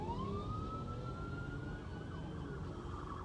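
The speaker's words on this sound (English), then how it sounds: "Oh, a couple of police cars." A wailing police siren sweeps up and down in pitch over steady traffic rumble, loud and close as vehicles pass by.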